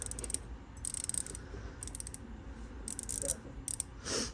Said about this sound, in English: Now you'll hear the click. Isn't that beautiful?